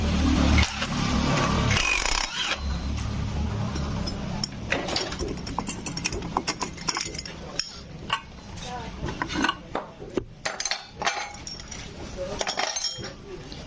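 Metal tools clink and scrape while opening the cylinder of a Honda Beat FI scooter engine that seized after running out of oil. Irregular close knocks and rattles continue throughout, with a voice in the background.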